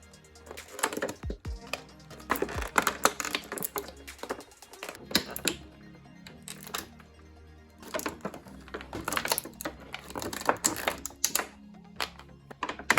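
Plastic blister tray from a Halo Infinite Master Chief toy package being pried and pulled open, bursts of crackling, clicking plastic close up, separated by brief quieter pauses, with no talking.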